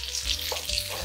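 A breaded Wiener schnitzel cutlet fries in hot oil, giving a close, steady crackling sizzle with a soft stir or shift partway through.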